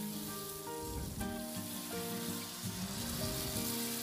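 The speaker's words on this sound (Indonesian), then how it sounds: "Kita panaskan sedikit minyak untuk menumis saus-sausnya ya bun." Sauces for bakmoy sizzle and fry steadily in a little hot oil in a pan, a continuous close crackle with faint stirring throughout and no talking.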